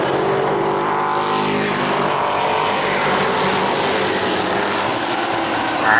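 Late model stock cars racing at Riverside Speedway, a New Hampshire oval, with a steady, loud engine roar sustained throughout and a brief swell near the end as cars pass close.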